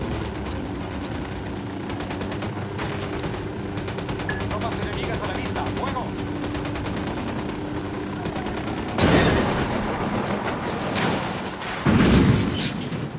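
Sustained gunfire in a Ghost Recon Wildlands firefight, dense overlapping shots over a steady game soundscape, with two louder close bursts near the end and radio voices talking in the mix.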